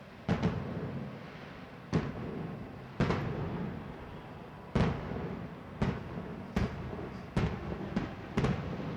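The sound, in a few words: fireworks in the stadium before the Copa America final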